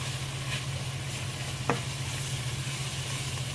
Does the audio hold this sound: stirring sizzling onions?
yes